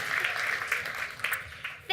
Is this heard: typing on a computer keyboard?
no